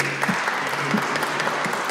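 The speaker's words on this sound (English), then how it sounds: "I think a little bit bigger applause is also necessary" A conference audience claps to welcome a panelist, a brief steady patter of applause heard from within the hall, moderately loud with no voices standing out.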